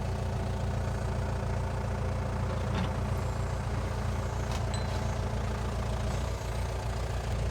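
Large truck engine running at a steady low idle during a lift, a continuous deep rumble close by with a faint hiss or two, no talking.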